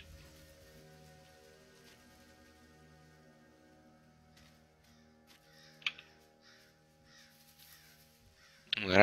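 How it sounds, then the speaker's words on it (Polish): Crows caw in the game S.T.A.L.K.E.R. against a quiet, droning ambient backdrop, with a few sparse distant calls and clicks, then a sudden loud burst right at the end. "Na razie słyszę tylko wrony"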